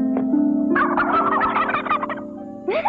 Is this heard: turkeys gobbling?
yes